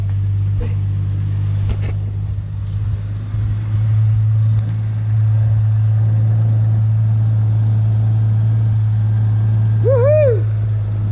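A Nissan GU Patrol with a TB45 turbo engine runs at a steady, close idle after being given extra fuel. A voice whoops excitedly near the end over the low drone.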